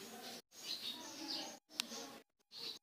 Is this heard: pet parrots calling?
yes